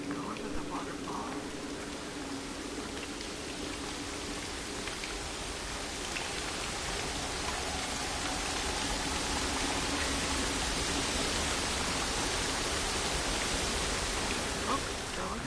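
A waterfall in the video game Dear Esther pours as a steady, dense roar of rushing water, constant and close throughout with a slight swell toward the end.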